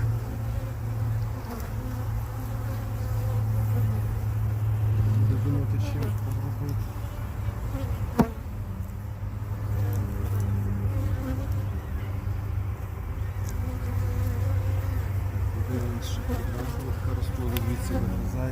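Steady, dense buzzing of many young honeybees close by at an open hive started from a package, continuous throughout, with a low droning hum and faint speech-like murmur underneath.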